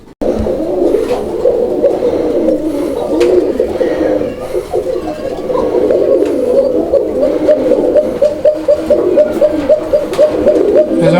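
Domestic pigeons for sale at a market coo steadily and close by, a continuous layered run of low repeated coos lasting throughout, with no voices.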